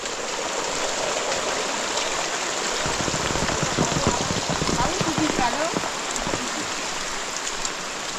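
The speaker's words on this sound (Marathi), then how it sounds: "पाऊस बघा केवढा आहे, गलीला पाणी आलं आहे" Heavy rain pours down onto a street until water runs along it, a steady, close hiss of drops drumming on surfaces that never lets up.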